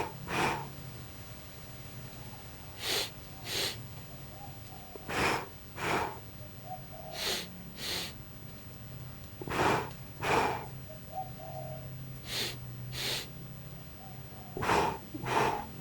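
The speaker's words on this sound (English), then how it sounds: "Heel down, breathe in. Toe down, breathe out." Slow, steady breaths in and out during qigong walking, each a soft airy rush repeating in an even rhythm, close and fairly loud over a faint low hum.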